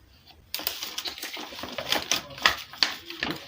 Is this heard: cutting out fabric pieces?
yes